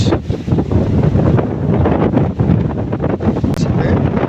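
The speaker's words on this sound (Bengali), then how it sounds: "শুরু হয়েছে প্রচণ্ড বৃষ্টি এবং বাতাস" Strong storm wind buffets the microphone in a continuous roar, with heavy rain and gusts blending into a loud, steady rush.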